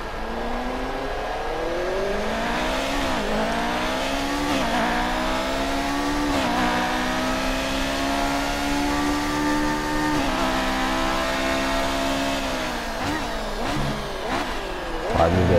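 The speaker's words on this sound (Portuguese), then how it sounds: "troca de marcha manual, né?" A classic Formula 1 car with a manual gearbox, driven at Hockenheim in F1 2018, revs hard and climbs through gear after gear. Each shift cuts the engine pitch, with tire noise under it, while a voice talks over it.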